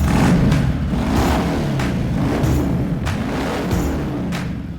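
Close, loud revving of a Harley-Davidson Softail Fat Bob on stock mufflers, a deep rumbling engine rising and falling in a few throttle blips with a steady low idle underneath.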